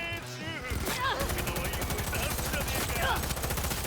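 Rapid bursts of shotgun fire in the Cyberpunk 2077 video game, loud and close, repeating in a dense volley over steady game noise and music.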